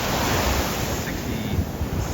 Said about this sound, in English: the waves look a lot bigger than they do from the parking lot